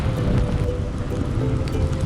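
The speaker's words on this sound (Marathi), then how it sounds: "पाऊस छान वाटतं असं बघायला मस्त वाटतंय" Rain pours steadily outside a moving vehicle, a dense low rumbling hiss that stays loud and even, with faint patters on top.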